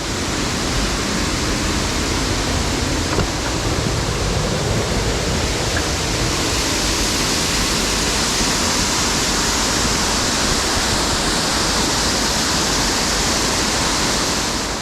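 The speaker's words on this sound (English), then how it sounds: "I'm gonna go take a look at the waterfall here." A waterfall on a Pennsylvania mountain stream pours in a steady, loud, broadband rush that holds constant throughout, with no voices over it.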